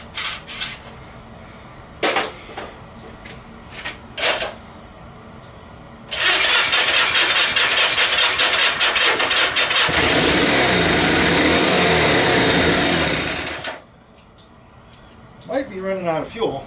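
A Honda Benly motorcycle engine cranks over and churns loudly for several seconds without settling into a steady idle, after brief clicks and knocks, with voices talking before and after.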